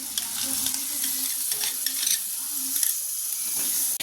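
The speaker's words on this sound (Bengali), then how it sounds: "টক দইটা দিয়ে একটু ভালো করে কষিয়ে নিয়েছি" Sour yogurt with turmeric and salt fried and stirred in a pan for a prawn curry, a steady bright sizzle with repeated scraping strokes of the spoon running throughout, close and loud, with no talking.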